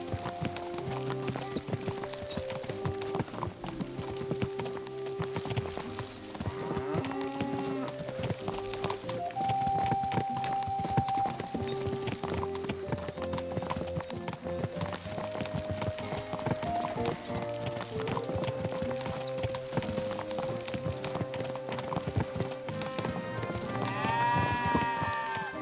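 Horse hooves clip-clop at a steady walking rhythm in Kingdom Come: Deliverance II, riding an old nag along with game music and ambient sounds, close and continuous throughout.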